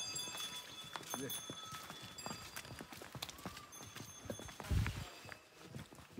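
Horse hooves plodding along a muddy mountain trail near Rara Lake after rain, a faint, uneven clip-clop of steps with talk over it.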